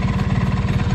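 Honda DIO AF-18 scooter engine idling close by, a steady loud rapid rattling putter with even pulsing throughout, no voices.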